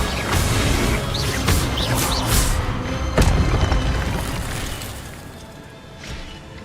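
Fire spell cast in the video game Hogwarts Legacy, heard as a loud burst with crackling whooshes and a sharp impact near the middle, then fading.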